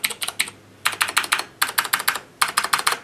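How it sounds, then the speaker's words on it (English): Typing on a Razer BlackWidow Ultimate 2013 mechanical gaming keyboard with MX Blue switches, sharp close clicky keystrokes in quick bursts of three to six separated by brief pauses, loud and alone without any voice. "you can hear what the shift and enter and backspace keys sound like compared to the regular ones"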